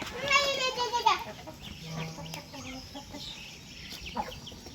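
Chickens clucking on a farm in the countryside, scattered clucks and calls mixed with children's voices and chatter nearby, moderately loud and busy throughout.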